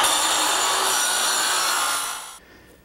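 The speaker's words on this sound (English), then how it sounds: "I'm trimming the edges with my small circular saw" A small circular saw trims the edges of cedar gazebo railing in one steady, loud, high-pitched cut, then the blade cuts out abruptly and winds down near the end.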